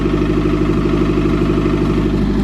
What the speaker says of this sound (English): So yeah, definitely has a really bad exhaust leak right there.